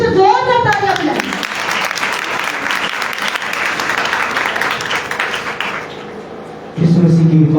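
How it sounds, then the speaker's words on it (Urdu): A church congregation gives the pastor loud, sustained applause at a Christmas service, a dense wash of clapping that fills most of the stretch, with speech before and after it. "تو آپ اپنے پاسٹر صاحب کے لیے پھر سے زوردار تالیاں بجائیں."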